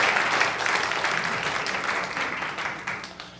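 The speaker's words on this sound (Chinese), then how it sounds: "我们拍手，鼓掌。" A church congregation at a Sunday worship service claps together in a dense, steady round of applause that swells at first and slowly fades, with no voices over it.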